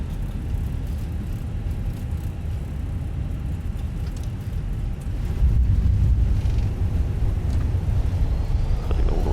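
Airliner landing rollout in an A320 flight simulator at Salzburg: a steady low engine and road rumble that grows slightly louder partway through, continuous with no talk.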